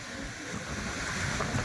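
Sea waves wash against a shore lined with cliffs, where a large boat is moored, in a short, continuous surf wash mixed with wind buffeting the microphone.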